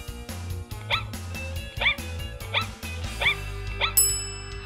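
An Aibo robot dog gives a series of about five short electronic yips and barks at a steady rhythm over a low musical backing, ending with a brighter chime.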